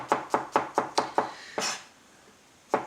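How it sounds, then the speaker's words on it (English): A big kitchen knife chops chorizo into thin pieces on a board, six quick, evenly spaced, close thuds, then a short pause and one final chop. "with a big knife, just chop it into those little thin pieces again"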